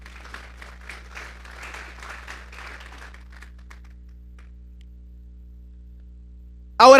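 A church congregation gives a few seconds of scattered, fairly faint clapping over a low mains hum, then it fades to near silence before a sudden loud burst at the very end.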